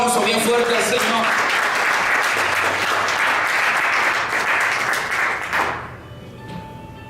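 Church congregation breaking into loud, dense applause with scattered voices mixed in, sustained for several seconds before tapering off into quieter murmurs.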